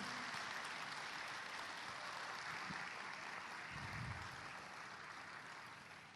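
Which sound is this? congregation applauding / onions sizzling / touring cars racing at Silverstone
congregation applauding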